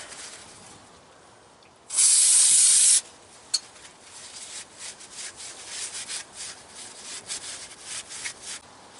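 An aerosol can of brake cleaner gives one loud steady hiss of about a second as it sprays onto semi trailer brake parts, followed by quieter scraping and rubbing handling noises.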